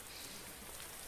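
Steady rain falling in a video game forest scene, a constant soft hiss of drops on leaves and ground, even and close throughout with no voices.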